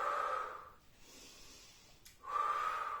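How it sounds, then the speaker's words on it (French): Breathing during a seniors' gym exercise session: a soft, close inhale-like airy rush at the start, a quiet pause, then another breath sound swelling again, faint and alone without talking. "J'inspire."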